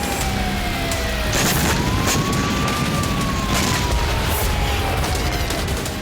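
Air raid warning sirens wail over a city in western Russia, one long rising and falling tone heard from a distance, mixed with dull booms, crackle and broadband rumble that stay loud throughout.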